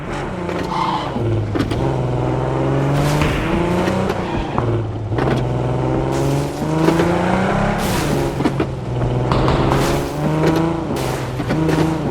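A car engine in the video game PUBG roars and revs continuously, pitch climbing and dropping as it shifts through gears, loud and close with no talking.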